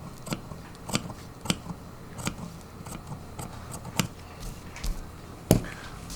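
Scissors cutting through a ready-made jacket front canvas, a series of sharp crisp snips spaced irregularly about half a second apart, close up and alone with no talking.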